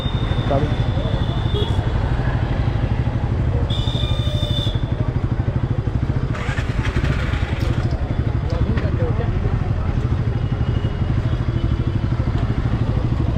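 A motorcycle engine idles and runs steadily close by, with clattering handling noises and people talking over it throughout.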